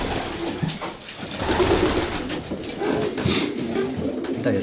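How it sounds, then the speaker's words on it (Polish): Pigeons cooing softly in a loft, low throaty coos repeating amid rustling wing and shuffling noise, several birds close by with no clear talk over them. "To jest fajny gołąb też, bardzo."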